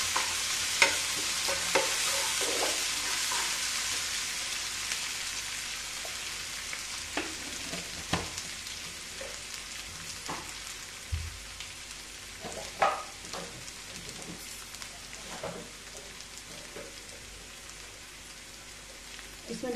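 Bay leaves, crushed ginger, garlic, chili and cumin fry in leftover oil for a dhaba-style potato and pointed gourd curry, giving a steady soft sizzle with occasional stirring clicks and scrapes throughout, with no talking.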